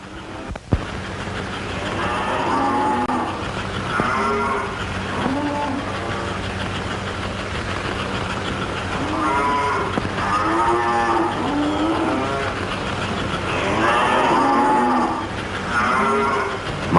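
Cattle moo repeatedly at a cattle siding during loading onto an American Flyer model train layout, several drawn-out bellowing calls spaced across the scene over a steady low hum.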